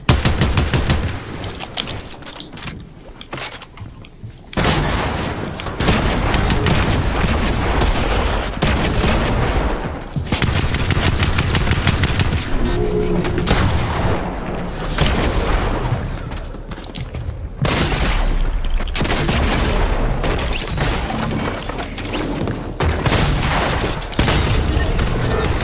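Rapid, loud video game gunfire with shotgun blasts, dense booming shots and bursts packed close together almost without pause, one short lull near the start.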